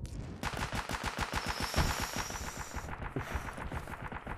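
Rapid bursts of automatic gunfire in Escape from Tarkov ring out close and loud, a fast, steady string of sharp shots running the whole stretch with a brief stutter midway.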